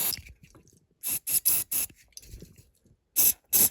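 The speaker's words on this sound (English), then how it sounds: "you get your glue hardener, the activator spray" Several short bursts of glue activator aerosol spray, close up, hissing in quick pulses with brief quiet gaps and faint handling noises between them.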